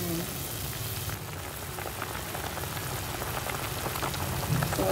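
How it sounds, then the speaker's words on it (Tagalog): Salmon head porridge with mustard greens boiling in a pot, a constant dense bubbling and crackling hiss that stays loud and even throughout, with a brief dip near the start. "Kulong-kulo na siya."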